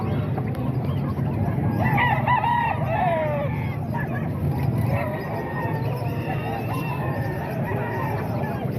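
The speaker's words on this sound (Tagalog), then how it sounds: "mga manok to ni Buskin mga idol." Chickens cluck busily close by while a rooster crows a couple of times, with a constant farmyard din underneath.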